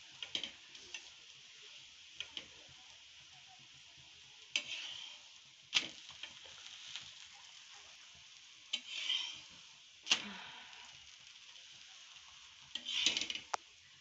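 Potato paratha roasting on a pan gives a faint, steady sizzle, broken by scattered light ticks and a few soft scraping strokes, with no voices.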